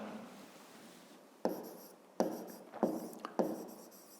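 Handwriting in a notebook, a few close, distinct scratchy pen strokes in short bursts after a quiet start, no voices.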